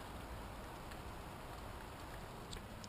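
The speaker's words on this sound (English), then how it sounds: "here we have glorious England, grey and raining" Rain falling outside in grey English weather, heard through an open window as a steady, soft hiss of drops on surfaces with no talking.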